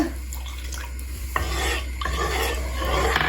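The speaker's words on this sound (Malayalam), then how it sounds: "ഇനി നമ്മൾ വിനെഗർ ഒഴിച്ചു കൊടുക്കുകയാണ്" Vinegar poured into a hot pan of honey glazed chicken sauce, a loud hiss that swells at the pour, with scraping and rubbing of a utensil against the pan over a steady hum.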